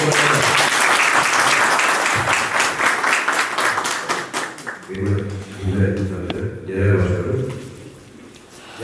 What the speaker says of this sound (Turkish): o zaman yeni başkanı bir alkışla